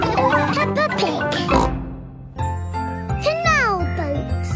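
Cartoon pig oinking from the Peppa Pig animated series, bright snorting oinks beside a voice and a tinkling jingle, loud and close.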